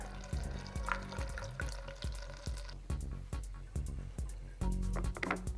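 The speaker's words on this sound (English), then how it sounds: "now we'll fill back up with gas" Gasoline glugging from a can into a moped's fuel tank during a restoration, a close, rhythmic series of liquid gulps and splashes repeating steadily, with no talking.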